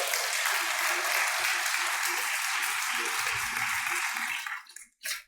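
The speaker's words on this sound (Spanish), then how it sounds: "¿Cuánto le dan un aplauso al Señor?" A church congregation applauds during a Spanish-language sermon, steady full clapping for over four seconds with low voices underneath before it fades and cuts off.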